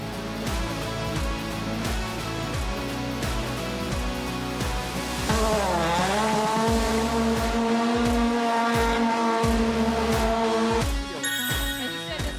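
A Toyota race car drives hard, its engine loud and close with repeated rising and falling revs and gear changes throughout, then a higher whine near the end.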